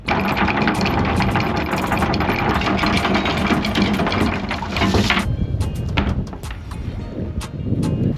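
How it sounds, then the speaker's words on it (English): A sailboat's engine runs steadily while the anchor is raised, a continuous mechanical drone with rattling and clanking layered on top, loud and close throughout, easing slightly toward the end. "So I'm gonna turn on the engine now, and let's try to see if we can get this anchor off."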